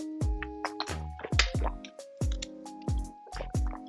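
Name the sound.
taking a sip of water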